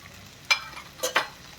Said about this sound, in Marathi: छान परतून घेऊया हे सगळं